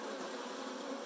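Saskatraz honey bees buzzing steadily during a hive install, a close, faint, continuous drone of many wings with no voices.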